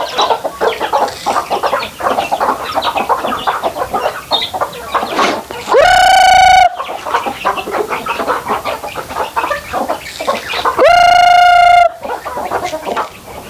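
Farm chickens cluck and squabble continuously and loudly nearby, with a rooster crowing twice in long, strained calls over the busy flock.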